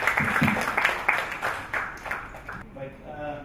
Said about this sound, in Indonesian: Berikan tepuk tangan untuk Pak.